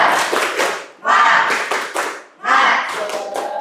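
A group of people clap in rhythmic bursts during an ice-breaking routine at an indoor teaching session, three loud close-up clapping phrases separated by brief pauses, with voices chanting along.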